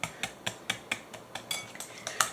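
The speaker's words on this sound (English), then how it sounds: "I'm going to get the whisking" A whisk beats banana muffin batter in a bowl, giving a steady series of sharp clinking taps against the bowl, about a dozen strokes in quick rhythm, close and moderately loud with no talking.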